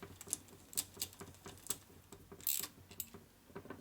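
Screws are tightened on a 1946 Harley-Davidson Knucklehead engine block in a workshop as faint, irregular clicking and ratcheting taps with a few sharper metallic ticks, close by and quiet.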